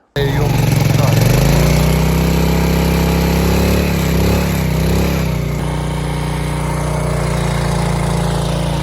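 A Mustang's engine starts up and runs loudly and close, a rough rumbling idle that rises and wavers briefly as it is revved, then settles.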